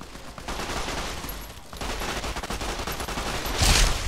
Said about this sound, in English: there's two merchants here that are firing at me